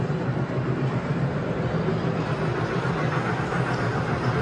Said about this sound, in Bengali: এখানে এই ছোট ছোট টয় ট্রেনগুলো রয়েছে, যেগুলো এই মলের মধ্যেই চলে